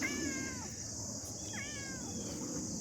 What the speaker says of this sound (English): Time for a little garden tour with Sausage, the cat